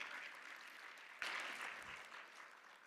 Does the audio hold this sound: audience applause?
yes